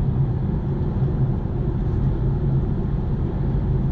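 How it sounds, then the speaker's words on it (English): A BMW 4 Series coupe's engine drones steadily and loudly from inside the cabin while driving, a constant low rumble mixed with road noise and no voices. "obviously, I've already mentioned it, the engine's quite noisy"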